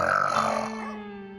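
A woman snores at night, one loud, rough, throaty snort that fades into a low, steady drone.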